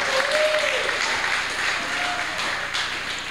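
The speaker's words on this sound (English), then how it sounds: "Let's give them another round of applause." Audience applause at a Christmas music performance, a steady, dense wash of clapping filling the room throughout with a few faint voices mixed in.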